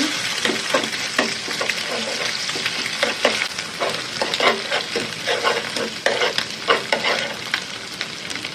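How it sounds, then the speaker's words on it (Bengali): An egg with chopped onion and green chilli fries in a pan while being stirred, giving a steady close sizzle broken by repeated scraping strokes of a spatula, with no talk. "আমার ডিমটা ভাজা হয়ে গেছে"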